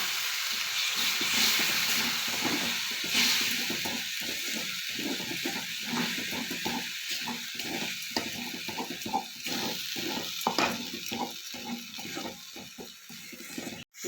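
Ground spices for dhaba-style bhindi masala sizzle and hiss in a pan after a little water goes in, a loud steady broadband hiss with brief gaps that ends abruptly.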